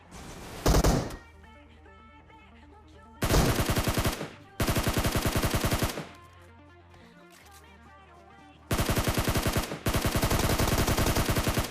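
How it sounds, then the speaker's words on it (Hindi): Bursts of automatic gunfire in a battle royale video game, several rapid rattling volleys of a few seconds each separated by short quieter gaps, loud and close with no talk. "मैंने देखा कि यार फायरिंग का साउंड आ रहा था"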